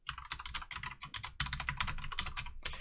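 Rapid, uneven clicking from typing on a computer keyboard while writing Python code, with keystrokes in quick bursts and brief pauses, close and fairly loud, with no voices.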